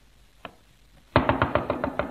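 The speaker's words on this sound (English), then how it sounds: "Did you hear that knock?" Someone knocks on an office door in an old comedy sketch recording: one light tap, a pause, then a quick close series of about eight firm raps.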